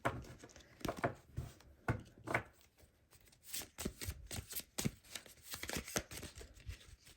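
Tarot cards being shuffled by hand, a close, quiet series of crisp riffling bursts and soft slaps in an uneven rhythm, with no voice.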